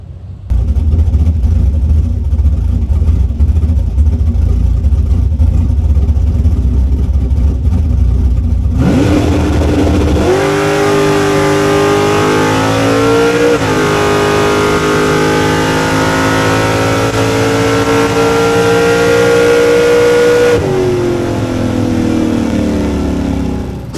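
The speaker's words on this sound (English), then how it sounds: "let's take a look at some GoPro footage of me making a 9-second pass." Drag race car making a 9-second pass at the NMCA All-American Nationals, with a loud low idle that bursts into a roaring full-throttle launch and climbing engine revs through several gear changes, close and continuous.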